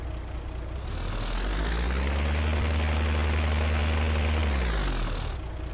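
A tractor engine in Farming Simulator 19 holds a steady, loud drone that swells as the revs climb, sustains, then winds back down near the end, with no voices.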